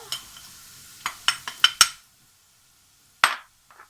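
A spoon clinks and scrapes against a pot of chicken curry with spices in quick short strokes, then pauses and gives one final knock, with faint sizzling underneath.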